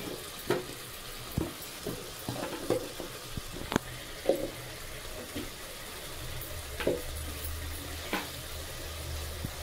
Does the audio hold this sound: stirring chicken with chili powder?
yes